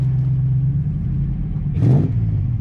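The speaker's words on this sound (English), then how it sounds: "It's got a lovely deep roar." A Daimler 250 V8 saloon with automatic gearbox idles with a deep, steady low rumble, then briefly blips the throttle into a short throaty roar before settling back, heard close up.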